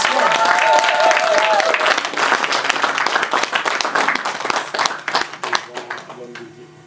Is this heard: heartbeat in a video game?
no